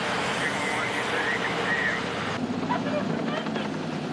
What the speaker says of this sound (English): Can you see the chopper right now?